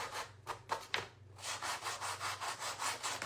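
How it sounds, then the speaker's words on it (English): An electric sander run along the edges of a wooden piece gives a continuous rough, rubbing whir with rhythmic pulses as it passes back and forth, close and steady with no talk. "I took my sander and I went across the edges"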